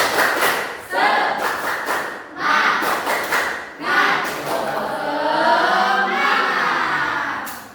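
A school class claps out a rhythmic chant together, bursts of group clapping mixed with children's voices calling in unison, close and lively.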